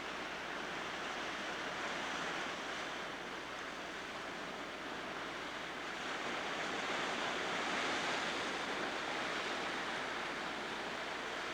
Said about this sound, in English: Sort of another thunder hole where the waves come crashing up.